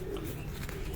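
Jaunsre pigeons coo, a soft low continuous murmur heard close for about a second.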